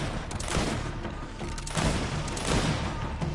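Rapid gunfire from a weapon in the video game GreedFall, a dense continuous burst of shots and impacts lasting a few seconds with no speech.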